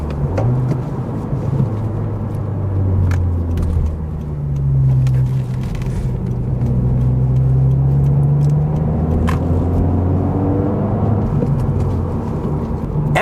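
A Honda Civic Si heard from inside while driving, its engine rumbling steadily and climbing then dropping in pitch through gear changes and rev-matched shifts, with faint clicks and knocks from the cabin.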